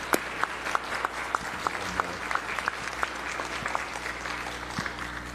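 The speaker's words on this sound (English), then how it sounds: "If we could give them a round of applause and welcome to the Senate." Steady applause from a crowd in the Hawaii State Senate chamber, many hands clapping at once for several seconds, with a low hum underneath.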